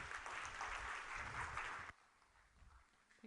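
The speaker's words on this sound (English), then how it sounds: "please give them a big round of applause" A crowd applauds for about two seconds, a dense wash of clapping that cuts off abruptly into quiet room noise.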